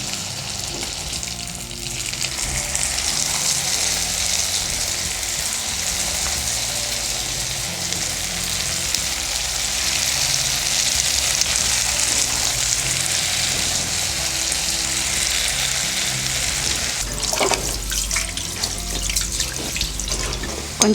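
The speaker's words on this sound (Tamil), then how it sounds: "நம்ம வந்து வெண்டைக்காவை போட்டு பொரிச்சிக்கலாம்." Okra pieces deep-fry in hot oil with a loud, dense, continuous sizzle that holds steady from start to finish, joined near the end by a few brief stirring clatters.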